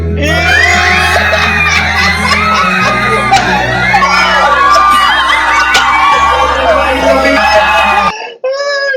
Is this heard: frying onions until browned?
no